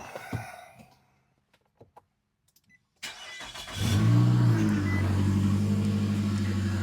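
A Nissan Altima's engine cranks and catches after a quiet pause, then settles into a steady, close idle hum, just after power steering fluid was added.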